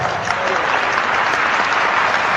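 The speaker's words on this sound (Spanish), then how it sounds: "Un aplauso para él." A church audience gives a lively round of applause during a priest's talk, many people clapping together in a loud, continuous, even roar that holds steady from start to finish.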